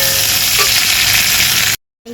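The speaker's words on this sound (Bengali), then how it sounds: "পেঁয়াজটা একটু ভেজে নেব" Onion frying in a pan sizzles loudly and steadily up close, then cuts off abruptly to near silence and resumes faintly at the end.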